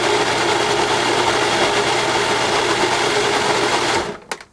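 Food processor chopping tomatoes for salsa, a loud, steady motor whir running continuously for about four seconds before abruptly stopping with a couple of clicks.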